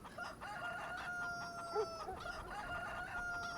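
Chickens clucking and a rooster crowing on a farm in Farming Simulator 25, steady fowl calls at moderate level throughout, alone without talk.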